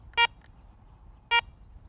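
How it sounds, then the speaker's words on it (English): A Garrett ACE 200 metal detector powers on with two short, clear electronic beeps about a second apart over a quiet background, with no one talking. "To power on the detector, simply press the power button."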